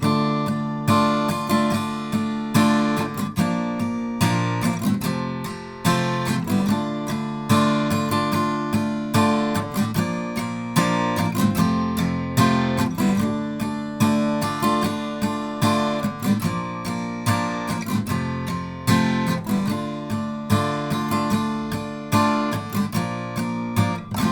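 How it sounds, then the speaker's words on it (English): Acoustic guitar chords strummed steadily and briskly for a long stretch through the chorus of a song, full and close with a rhythmic pulse and no voices. "the strummed chorus sounds like this"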